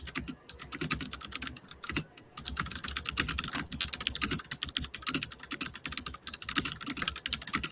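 Continuous typing on a computer keyboard, a dense, fast patter of clicking keystrokes with brief pauses, close and fairly loud, with no talking.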